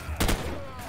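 Gunfire in Call of Duty 4: Modern Warfare: a quick pair of shots in rapid succession, moderately loud, trailing into a softer ambient wash.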